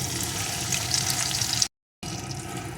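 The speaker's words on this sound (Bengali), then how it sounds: "এখন এই তেলের ভিতরে দিয়ে দেবো একটা পেঁয়াজ কুচি" Chopped onion hits hot oil left from frying koi fish, a bright, steady hissing sizzle close by that cuts out briefly and then resumes.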